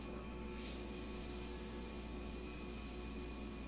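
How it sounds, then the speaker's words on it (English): A paint spray gun lays a top coat on a wooden dresser, giving a steady, close hiss that runs unbroken through the whole stretch with no voices. "So you can adjust your spray gun to pretty much any setting you want."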